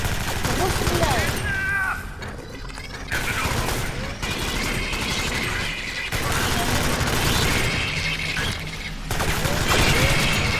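Bursts of automatic gunfire from the video game Reactive Drop rattle in repeated volleys, loud and dense, broken by short gaps, with people talking in Russian over the shooting.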